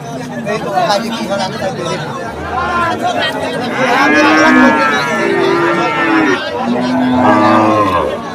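Jersey cattle moo in low drawn-out calls amid a noisy crowd of chattering voices at a busy cattle market.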